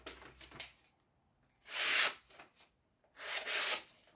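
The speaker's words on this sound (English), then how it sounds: "I'm going to sharpen. It's my Ozark Trail." An $18 Ozark Trail knife blade being sharpened, with two long rasping strokes against a sharpening surface separated by pauses and a few lighter scrapes at the start, close and moderately loud.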